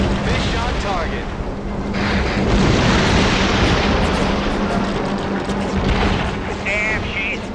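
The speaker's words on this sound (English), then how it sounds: "Torpedo dropped! Fish on target." Aerial torpedo striking a ship in Heroes of the Pacific, a loud sustained rumbling explosion over engine drone and wind, with voices speaking over it.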